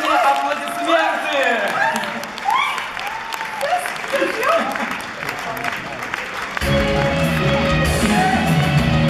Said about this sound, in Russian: Встречаем под ваши продолжительные аплодисменты